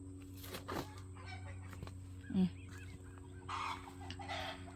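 Chickens cluck intermittently at moderate distance near a garden, over a low steady hum, with a few sharper calls scattered through.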